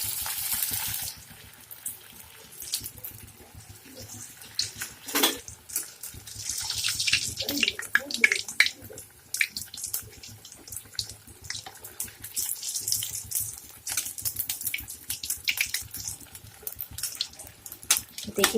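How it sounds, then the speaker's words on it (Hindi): Bread samosas fry in hot oil with a continuous close sizzle and crackling bursts, steady throughout. "हमारा तेल गर्म हो चुका है। अब हम इसे फ्राई करेंगे।"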